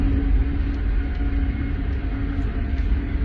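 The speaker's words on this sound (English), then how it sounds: "this storm is just shredding these homes in here" A Kansas tornado tearing through large, newer homes produces a continuous low rumble with a deep, steady roar, distant and without voices.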